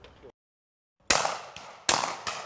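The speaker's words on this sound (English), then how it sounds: "Minishell is a lot different than shooting your normal ammo" Three 28 gauge Minishell shotgun shells fire at clay targets on an outdoor sporting clays course, each a loud sharp bang with a short decaying tail, after a short faint bit and a silent gap.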